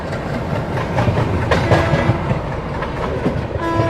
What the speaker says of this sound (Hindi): Meerut city Subedarganj Sangam express.